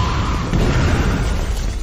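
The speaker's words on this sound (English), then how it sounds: "It triggered the explosion and cleared a path" A loud cinematic explosion in an action scene, a heavy blast with crashing debris and rumbling that fills the short moment without any talking.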